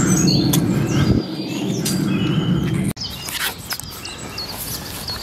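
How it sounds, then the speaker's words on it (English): Several birds chirp and tweet in the background while low rumbling and rustling, like footsteps on a path, sound nearby. "you can probably hear all the birds chittering, chattering."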